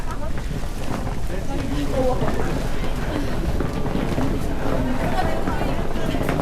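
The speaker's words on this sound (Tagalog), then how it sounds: "Tapos mahangin." Steady wind buffets the microphone on Fansipan mountain at about 3,143 meters, a continuous low roar and rumble outdoors with faint voices mixed in.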